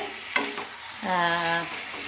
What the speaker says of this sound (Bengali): এবার বাঁধাকপিটা দিয়ে দিচ্ছি এবার গ্যাসটা জোরে দিয়ে দেবো জোরে দিয়ে সুন্দর করে কষিয়ে নেব